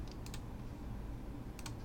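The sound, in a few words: typing on computer keyboard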